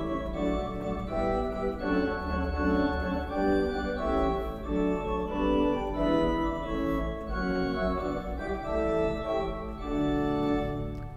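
Five-manual Austin pipe organ on flute stops with the larigot 1 1/3 added, a lively, sparkling line of quick notes over a held bass, continuous and full with no voices.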